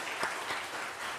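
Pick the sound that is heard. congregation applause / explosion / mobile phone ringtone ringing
congregation applause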